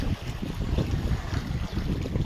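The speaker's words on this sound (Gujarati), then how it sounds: "ત્યાં પાણી હિલોરા મારી રહ્યું છે" Water surges and churns at the overflowing Brahmani-1 (Harpal Sagar) dam near Halvad, filled to its 27-foot overflow level, as a steady, loud broadband roar mixed with gusting wind buffeting the microphone.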